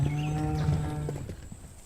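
A male buffalo lets out a single low, drawn-out moo close by, its deep tone fading over about two seconds, followed by faint shuffling.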